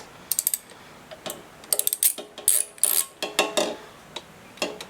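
Ratchet wrench clicking in short bursts while undoing fuel tank bolts on a 2021 Kawasaki Ninja 1000 SX, loud and close with sharp irregular runs of clicks and brief pauses, no talking.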